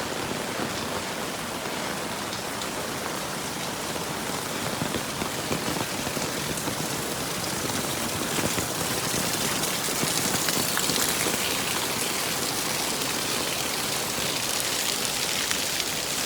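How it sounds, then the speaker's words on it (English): Heavy rain falls steadily in rural Vietnam, a dense, even hiss of drops on surfaces that stays loud and unbroken throughout with no voices. "this rain is a true blessing."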